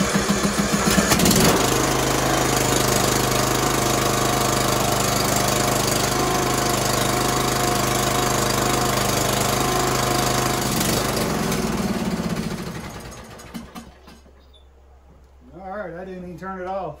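A Bolens lawn mower engine that had not been running, its carburetor uncleaned, fires and runs loud and rough for about twelve seconds, then dies away, and someone talks afterward.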